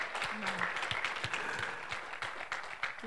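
A church congregation claps in praise of the Lord during a Spanish-language service, a short burst of scattered, fairly faint applause with a voice speaking over it.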